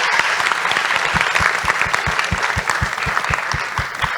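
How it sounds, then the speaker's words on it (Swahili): An audience at a formal engineers' meeting with a government minister claps together in dense, loud, sustained applause, steady throughout with no voices standing out. "Naombeni tujipigie makofi kwa maswali mazuri na maoni mazuri"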